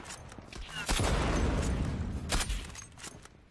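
Gunfire in the online shooter game Zula, a dense rattling burst that swells after the first second and then thins out with a few scattered sharp shots, loud and close.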